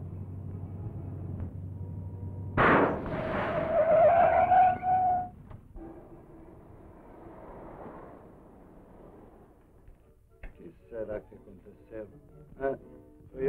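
A car's tyres skid with a sharp screech in a Brazilian film scene, a loud burst of a few seconds with a sustained whine, then rough engine or road rumble and scattered clatter as voices speak.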